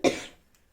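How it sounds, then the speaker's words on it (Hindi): A single short, sharp cough, close and fairly loud, fading quickly into quiet. "थोड़ा सा खांसी हो रही है"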